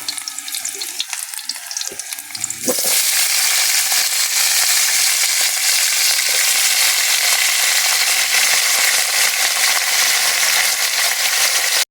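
Takway (taro runners) dropped into a pan of browned sautéed garlic and onion, bursting into a loud, steady sizzle after a quieter opening; the frying hiss stays dense and continuous, up close with no talking.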